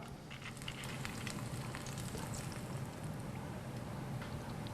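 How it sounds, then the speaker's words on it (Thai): Thai rice crackers (khao tang) deep-frying in very hot oil, a steady dense sizzle and crackle throughout, close and continuous with no talking. "แน่นอนเราก็ต้องนำข้าวตัง ไปทอดในน้ำมันที่ร้อนดีนะครับ น้ำมันต้องร้อนจัดนะครับ"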